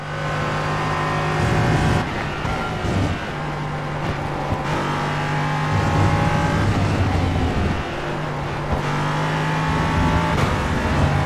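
LMP3 prototype race cars in the iRacing sim roar loudly and continuously, engines revving up and down through gear changes with repeated upshifts and lifts.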